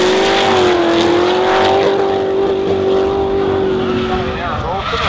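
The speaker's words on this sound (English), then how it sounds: "the ATJ 180 SX putting on a strong chase" A Nissan 180SX drift car chases another car at Hampton Downs during a D1NZ Pro-Am round, with a loud, sustained engine roar and tyre noise close by and a commentator talking over it.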